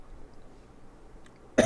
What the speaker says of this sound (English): Cough medicine wearing off.